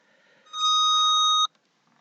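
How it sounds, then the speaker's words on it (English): A computer gives one clean electronic beep of about a second, fairly quiet and alone, with no talking over it. "So my computer just beeped there, does that occasionally."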